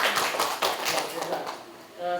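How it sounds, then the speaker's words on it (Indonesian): Teachers clap at a school event at SMPN 6 Muara Badak, with a burst of close, busy applause under talk before a voice takes over at the end. "guru kita sudah tepuk tangan."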